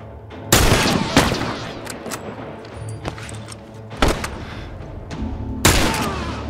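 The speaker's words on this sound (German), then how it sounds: "Von wo kommen die Schüsse?" Gunfire in the video game The Last of Us, several loud, sharp shots spaced a second or so apart with short echoing tails, close and dominant, with faint background ambience between blasts.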